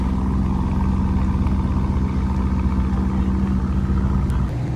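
A Bugatti Chiron rental car in Monaco, with a steady, loud engine drone and deep low rumble that holds for nearly five seconds, then eases slightly at the end.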